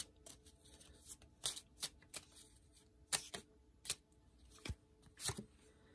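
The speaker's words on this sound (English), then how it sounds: "I'm going to pick one more card here for the hearts." Tarot cards being shuffled by hand, faint and close, heard as a run of soft irregular riffles and flicks with no talking.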